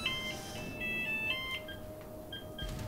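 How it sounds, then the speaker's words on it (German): A telephone rings with short, repeated electronic tones over a steady background hum of game sound. It is moderately quiet and there is no talk. "Sorry fürs Telefon, kommt halt mal vor."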